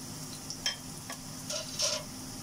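Pig's trotters brown in a hot pan for a vinegar dish with eggs and ginger, giving a low steady sizzle broken by a few scraping stirs near the microphone.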